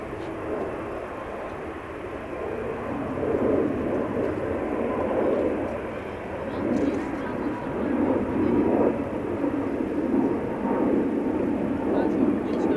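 An Embraer 145 business jet departs Amsterdam Schiphol Airport, heard as a broad, steady engine roar that swells slightly over about thirteen seconds, at a moderate distance and without talking.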